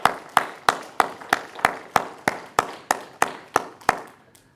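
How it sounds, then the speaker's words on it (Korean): Church congregation clapping in steady unison, a string of about fourteen crisp, evenly spaced claps at a brisk, regular beat that stops after roughly four seconds. "우리 감사의 마음을 담으면서 박수로 또 격려하기"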